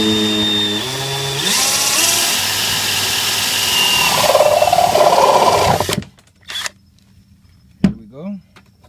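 A power tool boring a 1-inch hole through a kayak hull, a loud steady whining drone for about six seconds, then it stops and a voice speaks briefly.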